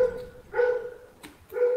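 A dog in the Minecraft video game barks in short, separated yelps, three clear bursts close and fairly loud with quiet gaps between them.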